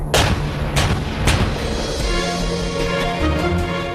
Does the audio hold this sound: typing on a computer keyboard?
no